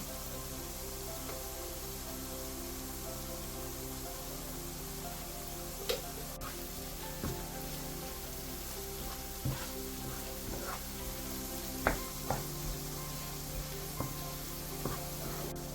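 Spices frying and being stirred in hot oil for apple pickle: a steady, dense sizzle throughout, dotted with light ticks and clinks from stirring, with no talking.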